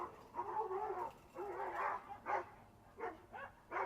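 A dog indoors or nearby lets out a string of whining whimpers followed by short yips and soft barks, moderately close and alone without talk.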